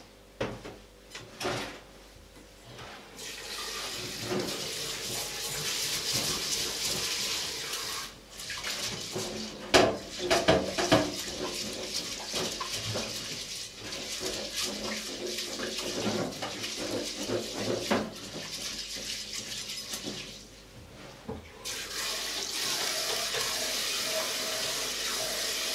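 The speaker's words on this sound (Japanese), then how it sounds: "お米を、研ぎます。" Rice being washed in water for curry, with running tap water, splashing and rubbing of grains, plus clunks of a drawer or cupboard, loud and close, steady through most of the stretch.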